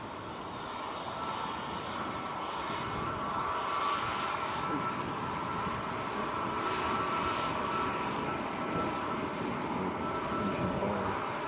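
A Turkish Airlines airliner departs Manchester Airport for Istanbul, a steady distant jet roar carrying across the airfield and holding at moderate level throughout with a broad rumbling wash.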